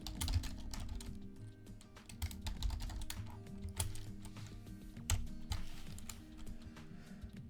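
Someone types a Wi-Fi password on a computer keyboard, with close, quiet keystrokes in irregular quick bursts.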